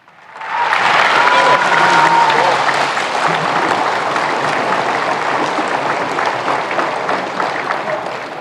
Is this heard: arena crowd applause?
yes